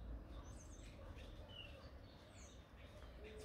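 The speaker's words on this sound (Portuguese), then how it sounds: "Vão ouvir praticamente só barulho de passarinho." Faint, scattered bird chirps and tweets drift into a quiet new garage, a few short calls over a low, hushed background.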